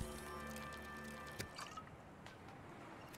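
A short liquid crafting effect from Subnautica as a bladderfish is turned into a flask of water: drippy, watery sounds over a steady tonal game backdrop, with one sharp transient partway through and nobody talking.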